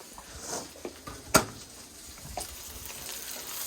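Green beans, celery, carrots and onions fry in a pan for fried rice, with a soft sizzle, a sharp clink of a utensil on the pan and light scraping, close and fairly quiet.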